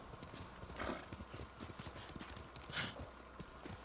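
Horse hooves clip-clopping at a steady gallop across terrain in the video game Ghost of Tsushima, a continuous rapid rhythm of close, moderately loud hoofbeats with occasional louder bursts.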